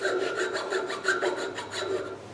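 Toothed cutting tool making a vertical cut in turned wood on a lathe, a steady rhythmic rasping saw stroke repeating about every quarter second, close and fairly loud with no talk.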